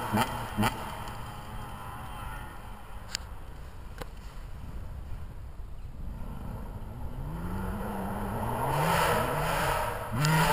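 A Husqvarna TC125 dirt bike revs from a distance while popping wheelies, its engine note rising and climbing louder toward the end, with a few sharp clicks earlier on.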